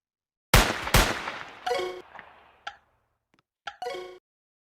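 Gunfire in a Squid Game-themed video game: two sharp, loud shots followed by a few quicker, lighter game-sound bursts and clicks, each separated by brief silences.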